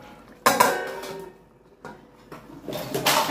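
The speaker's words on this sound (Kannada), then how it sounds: "ಈ ಹೊತ್ತಿಗೆ ಸ್ವಲ್ಪ ಹೆಂಗೆ ಪ್ಲೇಟ್ ಮುಚ್ಚಿ ಬಿಡ್ತಾರೆ ನೋಡ್ರಿ" A metal pan on a home stove being covered with a plate while rava upma cooks: a sharp clatter of crockery against metal, a softer knock partway through, then a longer rattling scrape as the plate settles, close and with no voices.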